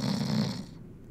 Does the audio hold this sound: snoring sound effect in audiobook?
yes